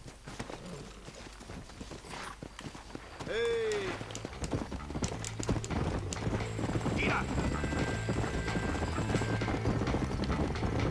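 Horse hooves clip-clop steadily and a horse whinnies once in Red Dead Redemption on Xbox One, over a continuous busy bed of game ambience.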